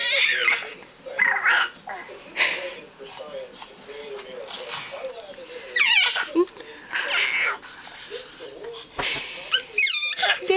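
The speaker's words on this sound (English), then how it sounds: "That sure sounds like a baby." Baby babbling, cooing and fussing in bursts, with small squeals and whimpers close by, interrupted now and then by sharp louder cries near the end.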